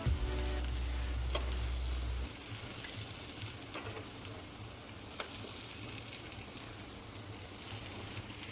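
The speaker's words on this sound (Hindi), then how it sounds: "दूसरी साइड से भी इसी तरह से सेक लेंगे कम आंच करके।" Poha and besan tikkis sizzle steadily in oil in a pan on low heat, a soft, continuous fry with faint crackles and no voices.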